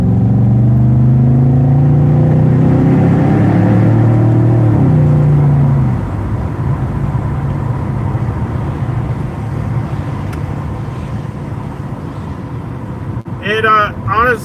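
A BMW car with its rear mufflers cut off and 3-inch exhaust tips drives along, a loud steady engine drone and rumble that eases after a few seconds into quieter road noise, with a brief burst of talk near the end.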